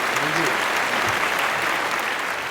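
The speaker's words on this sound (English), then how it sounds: "A warm round of applause, please" An audience gives a warm round of applause to welcome a guest historian onto a show, loud, dense clapping sustained evenly throughout with a brief voice at the start.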